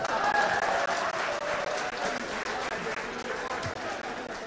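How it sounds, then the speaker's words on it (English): Audience clapping at a live business awards event, a continuous round of applause from a large crowd that stays loud and steady throughout, with a voice briefly audible beneath it. "Gentlemen, give the shoes a big round of applause."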